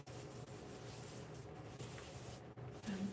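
Hands rubbing a heavy-hold hair styling product together, a steady soft friction rustle that continues close up for a few seconds without any talk.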